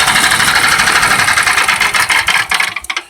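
Gas engine fitted to a converted Club Car golf cart runs close and loud with a fast, rattly idle, then sputters and cuts out near the end.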